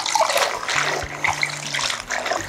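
Water splashes and trickles as soaked grape leaves are drained in a kitchen, a fairly loud, uneven pour with a faint hum underneath.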